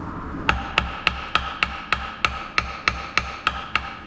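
A hammer strikes a bulldozer part in a steady run of about a dozen sharp metallic taps, evenly spaced roughly every third of a second. The taps are close and clear over low background rumble.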